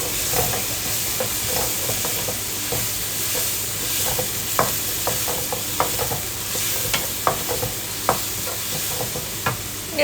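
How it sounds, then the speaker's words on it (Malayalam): Sliced onion sautéing with crushed garlic, ginger and green chilli for a crab roast, giving a continuous close sizzle with frequent sharp clicks and scrapes from the stirring spoon against the pan. "നന്നായിട്ട് ബ്രൗൺ കളർ ആവുന്ന വരെ വഴറ്റിയെടുക്കാം"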